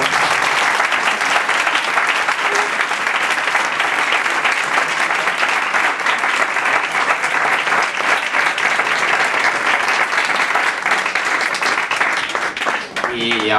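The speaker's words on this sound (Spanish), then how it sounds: "un fuerte aplauso para Álvaro" A Madrid meetup audience applauds a speaker named Álvaro with dense, steady clapping that stays loud and continuous for about thirteen seconds before thinning at the very end.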